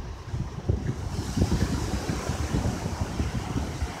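Ocean waves at the beach on a morning walk, with a low rumbling surf washing steadily under noticeable wind buffeting the microphone, no voices.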